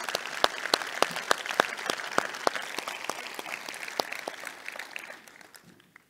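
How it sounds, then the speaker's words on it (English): A keynote audience at a tech conference claps together, with crisp individual claps standing out over a steady bed of clapping that gradually thins and fades out at the end. "let's give Luke a great applause to make sure he does this again"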